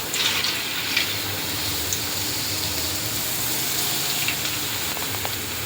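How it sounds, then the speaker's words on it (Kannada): Potato chips deep-fry in hot oil, giving a steady, dense sizzling hiss with occasional small crackles and pops, continuous and close throughout. "ಸ್ವಲ್ಪ ಆಯಿಲ್ ಹಾಕ್ಕೊಂಡು ಅದು ಬಿಸಿ ಆಗೋ ತನಕ ಇಟ್ಕೊಂಡು ಈ ಚಿಪ್ಸ್ನೆಲ್ಲ ಹಾಕಬೇಕು ನೋಡಿರಿ ಯಾವ ಥರ ಡೀಪ್ ಫ್ರೈ ಆದಮೇಲೆ ನೀವು ತಗೋರಿ"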